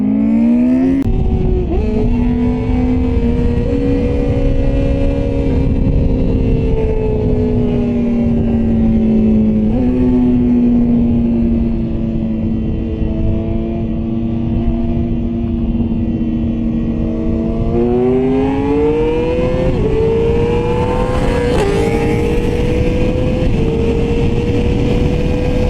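A twin-turbo Lamborghini engine drones loud and steady beside a motorcycle, its pitch sliding down and then climbing again as the vehicles pull away and accelerate, with the engine roar continuous throughout.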